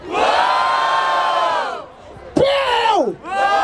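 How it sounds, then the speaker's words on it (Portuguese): Crowd at a Barueri freestyle rap battle roars and cheers in a loud sustained burst, drops briefly, then erupts again with whoops and shouts, close and dense. "barulho para as rimas do Cauê!"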